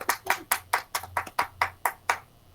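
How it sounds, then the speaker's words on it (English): A small round of applause at a school district board meeting, about ten distinct claps in a steady rhythm, close and clear, like a few people clapping over a remote call. "let's hear a huge round of applause for Kira Espinosa"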